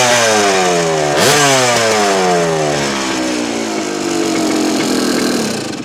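A 1976 Yamaha YZ250C two-stroke dirt bike, a Bob Hanna special, revs hard up close and loud, its pitch climbing, snapping off and climbing again in sweeping bursts of throttle, with no talking.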